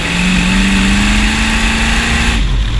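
A homebuilt custom motorbike with a Chevy V8, long unstarted, revs loud and close with a steady rising drone, uneven misfiring pops breaking through, then the revs drop away sharply near the end.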